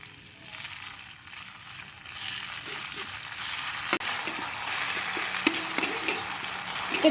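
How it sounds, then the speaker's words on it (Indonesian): A ground spice paste sizzles steadily as it is sautéed in a pan over low heat, the frying swelling louder as it goes, with occasional clinks and stirring scrapes and no talk. "Kemudian kita masukkan bumbu yang sudah kita ulek tadi. Kemudian kita tumis."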